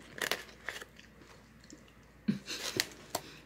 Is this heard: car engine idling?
no